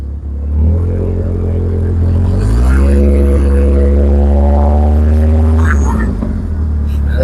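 The 2.3-liter turbo engine of a Foxbody drift car revs under throttle, a loud, close rumble that climbs in pitch and holds high before easing off.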